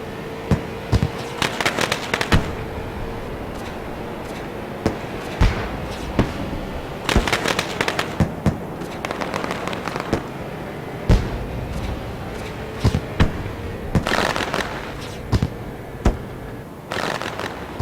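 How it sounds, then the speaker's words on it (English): Fireworks crackle and pop in rapid clusters over a steady roar of crowd and ambient noise at a street stock championship race at Lucas Oil Raceway, with bursts of sharp bangs repeating throughout. "Beautiful view of the fireworks and of the track."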